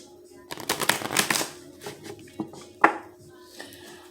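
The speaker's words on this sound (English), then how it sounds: "Shuffling for the collective" Tarot cards are shuffled by hand on a table in quick papery riffles and flicks, loudest early on and then thinning into a few sharp taps and slides close by.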